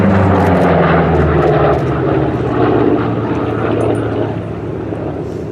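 A P-47 Thunderbolt warbird flies past at a Duxford airshow, its big radial propeller engine giving a loud, steady, rumbling drone that fades slightly as the aircraft moves away, with no talk over it.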